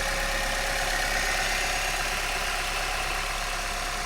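An Alfa Romeo 159 JTS engine idles after a timing drive replacement, giving a steady, even hum that stays constant throughout, with no voices.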